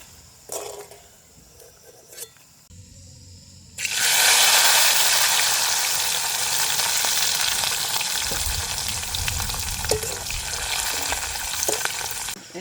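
Quiet clinks and rustles give way to a loud, steady sizzle as peanuts hit a little hot oil, frying vigorously with occasional stirring clatter and no voices.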